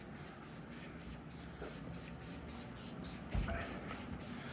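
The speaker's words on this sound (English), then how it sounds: "I'll hit the lowers of the car, and I'll just spray that on" P&S Crystal Wash fallout remover is sprayed from a trigger bottle onto the lower panels of a car. The spray comes as a rapid series of quiet, regular hissing pumps close to the mic.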